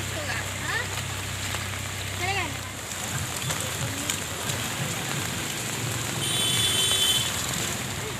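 Rain falling steadily over Patna, Bihar, during a monsoon downpour that has left parts of the city waterlogged, a dense continuous patter with faint background voices and occasional other sounds layered beneath it.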